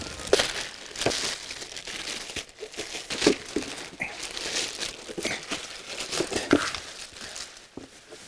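Plastic product packaging from ice chests is crinkled and handled up close, a busy run of crackling, rustling bursts and small tearing sounds with brief pauses, no talking.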